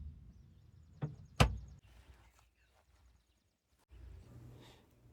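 A wooden door on a newly built DIY farm stand swings open, giving a sharp knock and a louder thud close by, then a quieter stretch and a low rumble as it settles.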